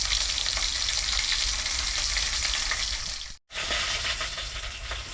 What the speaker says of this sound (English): I'll brown all of this oxtail